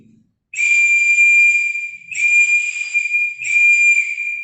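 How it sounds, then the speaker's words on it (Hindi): Scout guide uniform whistle blown in three loud, sustained shrill blasts, each clear and steady with short gaps between, alone with no talk. "ये है हमारी विसर यानी सीटी"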